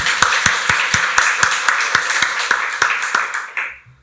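A church congregation claps steadily in unison during a Sunday service, a rhythmic burst of applause that fills the room and then quickly dies away.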